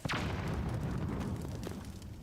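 A deep, booming explosion in a video game as rocks are bombed, a close, loud burst at the start that settles into a rumbling decay over a couple of seconds.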